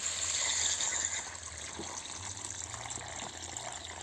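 Water gushing from a vessel into a pan of chicken curry, a steady broad pour that is loudest at the start, then settles into a softer continuous flow with no talking.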